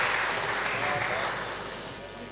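Audience at an international Urdu mushaira in Muscat applauds a poet being welcomed to the stage: a dense, steady wash of clapping from a large crowd that fades slightly near the end.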